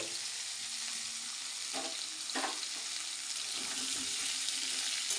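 Vegetables frying in hot tempered oil for a hilsa fish head chorchori, a steady broadband sizzle with a couple of brief stirring scrapes; no talking.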